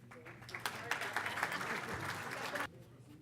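A congressional audience at the annual TAC breakfast session applauds a congresswoman, a steady mid-level wash of clapping that fills the room and then cuts off abruptly, with faint voices mixed in.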